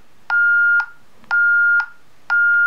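Three evenly spaced electronic beeps from a Honeywell alarm keypad as a code is entered, each a clean steady tone of about half a second, close and loud with short quiet gaps between.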